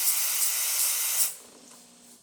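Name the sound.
DeLonghi espresso machine steam wand hissing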